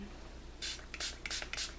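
Four quick hissing squirts from a spray bottle, close by and unevenly spaced, with a faint hum underneath.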